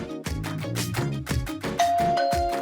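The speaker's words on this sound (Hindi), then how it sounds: "हम दरवाजे की घंटी बजाते हैं" A doorbell plays a rhythmic run of repeated ding-dong chime notes, bright and fairly loud, ringing continuously over a couple of seconds with no voices.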